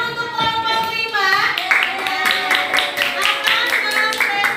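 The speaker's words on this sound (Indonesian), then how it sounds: "Tepuk tangan untuk kelompok 5" A class breaks into applause for a student group after a short spoken line, scattered hand claps building into a steady burst of clapping from many people nearby.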